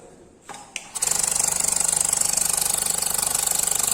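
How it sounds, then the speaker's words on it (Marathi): A laboratory vacuum pump runs for filtration during separation of a chemical binary mixture. After a few faint clicks it starts and settles into a steady, fast rhythmic chugging hum, close and continuous. "फिल्ट्रेशन साठी पंप सुरू करायचं"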